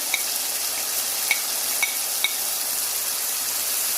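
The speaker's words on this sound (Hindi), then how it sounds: "प्योरी को 2 मिनट के लिए भूनें, अच्छे से भूनें इसको" Purée fries in a pan for a village-style daal mash, giving a steady, close sizzling hiss throughout with a few faint clicks and taps of stirring.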